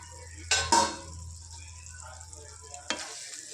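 Tomatoes for a Telangana-style fish curry fry in a covered pan over low gas, giving a soft steady sizzle broken by a couple of sharp clatters of a lid or utensil, close up with no talking.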